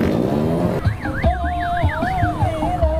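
A siren wails in a rising and falling pattern during a busy Eid al-Fitr takbir street procession in Bangkalan, Madura, loud and close over rumbling engines and crowd noise.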